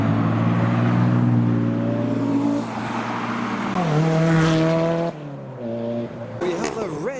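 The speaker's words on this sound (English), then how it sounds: "from white chaser, we now have a white Supra coming into the meet" A white Toyota Supra rolls into a Japanese car meet, its engine a droning hum that revs and shifts pitch a few times as it arrives, with people talking nearby.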